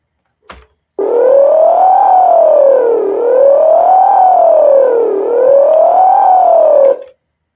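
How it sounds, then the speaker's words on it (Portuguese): Electronic siren from a looping siren program wails up and down in smooth, slow sweeps, loud and steady with no other sound, after a brief click at the start. "Aqui está o programa da Sirene aqui, ó. Ele faz um loop infinito, né?"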